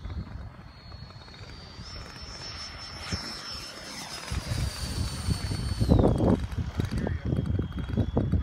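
A 90mm Viper Jet model jet aircraft flies at an RC field, its turbine giving a high, steady whine that shifts pitch as it passes, over low rumbling wind and handling noise.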